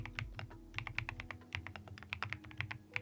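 Close, quiet typing on a thocky keyboard with marshmallow keycaps: a rapid, irregular stream of soft, muted key presses with a faint steady hum underneath.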